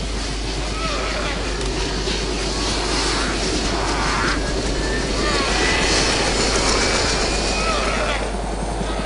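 A helicopter in the video game DayZ spins up, its engine and rotor making a loud, steady, close whine and rotor wash that holds throughout with slight swells.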